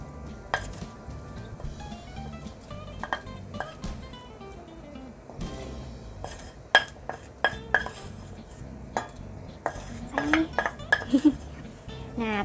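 Soto Padang broth being stirred in a pot after sautéed spice paste goes in, with a utensil scraping and clinking against the pot in irregular bursts, occasional sharper knocks, close and moderately loud, no talking.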